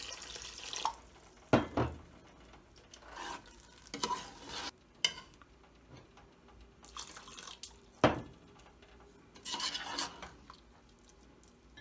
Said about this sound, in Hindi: हम इसमें थोड़ा पानी डालेंगे